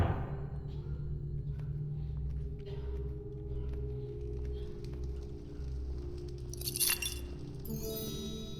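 A glass goblet clinks in The Dark Mod video game, a few light glassy taps over a steady low ambient drone, with a brighter clatter of chinks near the end.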